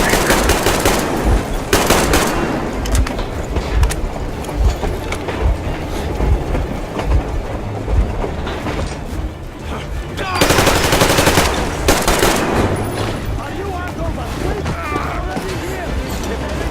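In the video game Metro Exodus, sustained automatic gunfire rattles loud and close in dense bursts, mixed with a clattering, train-like rumble. Shouted voices cut in over the shooting.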